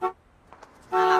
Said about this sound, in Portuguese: Tem como abaixar o volume da buzina, Carlos Alberto?